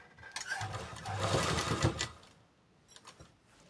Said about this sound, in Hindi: यहाँ पर पहले हम एक सिलाई लगा लेंगे